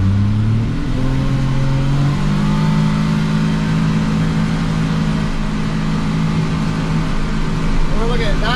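A CFMOTO U10 UTV engine at wide open throttle inside a soundproofed cab, with a loud, sustained drone whose pitch climbs early and then holds steady, and voices talking over it.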